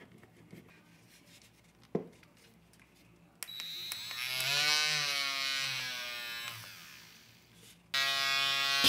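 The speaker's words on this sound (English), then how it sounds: "turn your tool on and apply light pressure onto the sandpaper." Rotary tool spinning a model tire on its rim against sandpaper to remove seam lines, starting with a few quiet clicks, then a steady close whine that shifts pitch as light pressure is applied.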